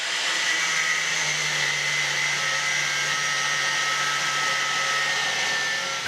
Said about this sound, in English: I make it by hand, just holding my angle grinder straight, and cut it up to the hole